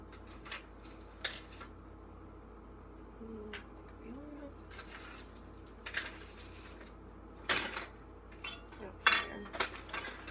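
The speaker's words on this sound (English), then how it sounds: "I might want to like stir it up a little bit just to make sure that every part of the herb is saturated." A bamboo skewer stirs herbs steeping in oil inside a glass jar, giving faint, intermittent clinks and scrapes against the container, scattered and soft in a quiet room.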